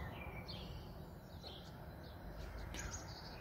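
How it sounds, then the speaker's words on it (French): Birds sing and chirp outdoors during a lockdown, a few short high calls scattered over about three seconds above a steady low rumble of background noise, moderately faint and with no talking. "On entend vraiment bien les oiseaux."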